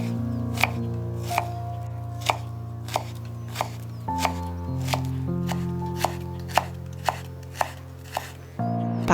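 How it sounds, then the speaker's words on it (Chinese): A knife chops fresh ginger into thin shreds on a board, giving a steady series of crisp, evenly spaced cuts up close, with sustained tonal background sound underneath throughout. "生姜切丝。"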